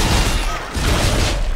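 Loud, dense bursts of gunfire aimed at enemies in the video game Dead Space 2, filling the short moment with rapid crackling blasts and a brief dip partway through.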